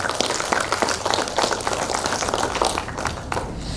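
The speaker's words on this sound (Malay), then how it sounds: "mari kita sambut dengan satu tepukan gemuruh dengan penuh meriah sekali Datuk Profesor Dr. Muhammad Jalani Muhammad" Audience applause welcoming a speaker at a 2022 research forum, a sustained patter of many hands clapping in a hall, steady and fairly loud throughout.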